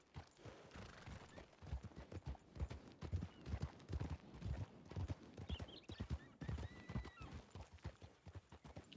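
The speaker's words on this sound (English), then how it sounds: "Saddled horse." Saddled horse in a video game, hooves clip-clopping in a steady walking rhythm, fairly quiet and close, with a faint whinny in the mix and no talk.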